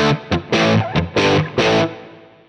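An electric guitar runs through a Line 6 Helix with distortion and a reverb set to 50 ms pre-delay. Several loud, chunky chords come in a short rhythmic burst, then a reverb tail fades out.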